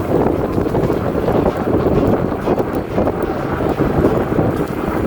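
Rattan LM 750 electric fat tire bike pulling away on throttle in mode 3, heard as steady loud rushing wind and road noise throughout, with no speech.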